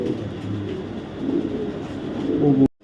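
A 2024 BRPL racing pigeon coos softly nearby, low murmuring tones that rise toward the end before cutting off abruptly.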